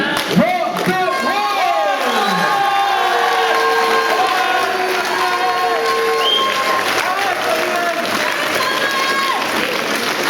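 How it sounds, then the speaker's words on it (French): A boxing-event crowd at the Siam Boxing Club applauds and cheers a 22-year-old fighter's ring introduction, steady dense clapping and voices filling the hall throughout, with an announcer's amplified voice and whistling tones over the top. "Applaudissements pour monsieur Samuel Bordereau."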